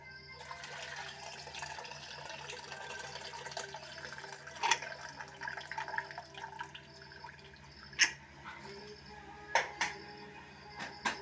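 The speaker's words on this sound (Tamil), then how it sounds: "தண்ணியை வந்து கடலிலிருந்து நம்ம வடிகட்டி எடுத்துக்கணும்" Water from boiled peanuts being strained off, pouring and trickling steadily with occasional sharp drips and splashes, close and fairly quiet, no talking.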